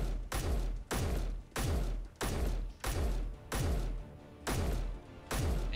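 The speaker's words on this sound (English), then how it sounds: "It takes 56 rounds or 2 4/5 of a mag to break a block with the MR20." An MR20 rifle in the Space Engineers video game fires at a block in seven loud, evenly spaced bursts of rapid shots, each ending in a brief gap, with no talk.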